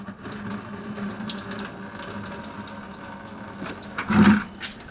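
Water trickles and splashes steadily for a few seconds as it drains out of a 2007 Dodge Ram HEMI 5.7 engine during water pump replacement, with a brief louder gurgling rush near the end; no talking.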